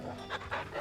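A dog in the video game Final Fantasy XVI pants briefly, two or three quick, breathy pants close by, with no voices.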